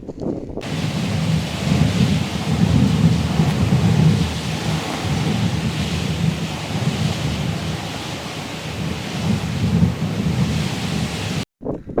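Steady roar of heavy rain from storm Fabien, with rumbling thunder rolling through the background, continuous and loud for the whole stretch.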